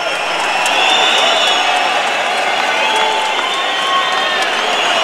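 A boxing arena crowd roars and cheers continuously as the fighter Lucian Bute salutes them, a loud, dense wash of voices with scattered whoops and clapping throughout.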